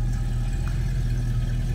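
Steady low rumble of a 1972 Mercury Cougar XR7 convertible's 351 V8 idling smoothly in the engine bay, with a stock exhaust and no audible cam work, a constant even drone with no talking.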